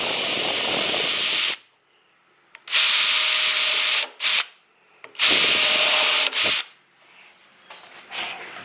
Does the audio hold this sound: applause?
no